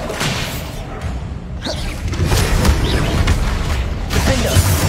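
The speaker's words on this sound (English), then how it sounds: "Bombarda!" Bombarda explosion spell cast in the video game Hogwarts Legacy, a booming blast with whooshes and thuds amid dense battle noise, loud and continuous through a chaotic fight.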